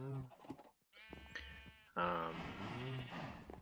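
Sheep bleating inside a barn in the video game Minecraft: several wavering, nasal bleats in quick succession, the later ones louder and overlapping, with a brief pause partway through.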